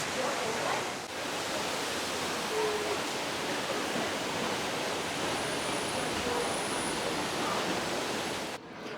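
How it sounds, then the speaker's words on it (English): Waterfalls at Disney's Polynesian resort pour steadily, a broad, constant rushing hiss of falling water that fills the scene at even loudness throughout, with faint voices occasionally underneath. "The sounds of these waterfalls, it's just so perfect."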